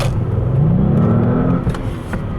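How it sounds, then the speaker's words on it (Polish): An Audi S8 4.0 TFSI V8 engine revs up smoothly in sport mode, its pitch climbing as it accelerates, loud and close, then settles into a steady hum. "No i wciskamy pedał gazu lekko."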